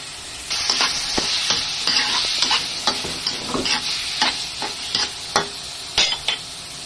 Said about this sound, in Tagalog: gigisa lang muna natin sila mga kapalaga